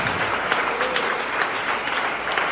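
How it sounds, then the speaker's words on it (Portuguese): A church congregation in a Portuguese-language service breaks into dense, continuous applause, a steady wash of many hands clapping at once. "Vamos dar um aplauso ao Senhor Jesus pela vida dos visitantes."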